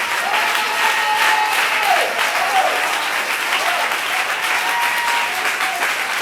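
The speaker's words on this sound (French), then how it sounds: "est-ce que tu veux acclamer Jésus? Oh, acclame Jésus" A church congregation at a Sunday service applauding to acclaim Jesus, sustained loud clapping from a large crowd filling the room, with faint voices calling out beneath it.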